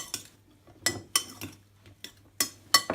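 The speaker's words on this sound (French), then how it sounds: "Et là, on va mettre le cerfeuil. Et on mélange." A utensil stirs a raw chanterelle and cep mushroom salad with chervil in a bowl, giving several quiet, sharp clinks and scrapes in an irregular rhythm.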